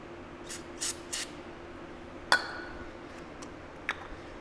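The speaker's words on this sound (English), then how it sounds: "I'm just going to take some brake cleaner." Brake cleaner sprays from an aerosol can in a machine shop while a face mill is being set up. Three short, sharp hissing bursts come close together, then a single metallic clink and a faint tick against quiet background hum.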